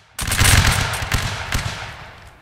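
Line infantry fire a musket volley in a Napoleonic Wars video game, a loud ragged burst of overlapping shots that rolls on for about two seconds, then trails off into a fading echo.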